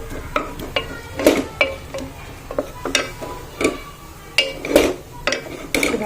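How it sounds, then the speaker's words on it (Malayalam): Spoon scraping and clinking against a small cooker while beef is stirred, repeated close taps and scrapes at an uneven rhythm over a faint sizzle, with no voices. "എന്നിട്ട് നന്നായിട്ട് ഇളക്കുക കേട്ടോ."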